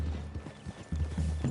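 Horse hooves clip-clop in Red Dead Redemption 2 in a quiet forest clearing, a few soft, close, uneven steps alone with low ambient rumble underneath.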